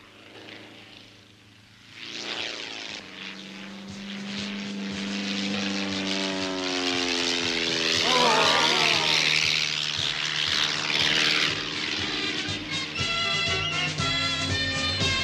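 Propeller airplane flying during a grand air race near Villacoublay, its engine drone rising from about two seconds and staying loud and steady, with a pitch that sweeps as it passes, alone without speech.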